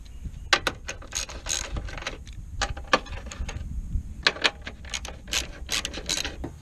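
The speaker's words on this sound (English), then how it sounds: "it's time to undo those top bolts" Hand ratchet undoing the top bolts of a car strut on a Mazdaspeed 3, rapid clicking pawl strokes in repeated bursts with short pauses, close and clear with no talk.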